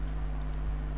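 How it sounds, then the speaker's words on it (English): A computer keyboard key is tapped during graphic-design work, giving a couple of soft, close clicks over a steady low electrical hum. "Backspace on your keyboard, hit on that"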